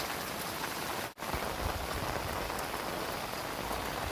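Heavy, steady downpour pelting surfaces outdoors in Dadyal, Azad Kashmir, a dense continuous hiss of rain that briefly drops out for an instant before resuming at full intensity.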